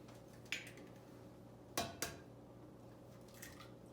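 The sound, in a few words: cracking eggs into a bowl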